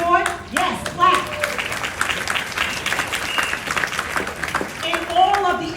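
An audience at an NAACP Freedom Fund banquet claps for its branch members and executive board, a moderate spread of applause running beneath a speaker's voice and fading at the close as talk resumes.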